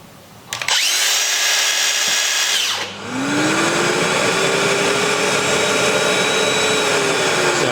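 A Metabo cordless power tool whirs loudly and steadily alongside the broadband rush of a Mirka dust extractor, both starting together, dipping briefly as the tool cuts out near three seconds, then spinning back up and running continuously.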